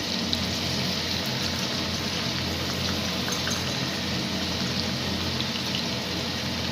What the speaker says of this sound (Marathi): तर ते पण आता मी ह्या तेलामध्ये तळून घेते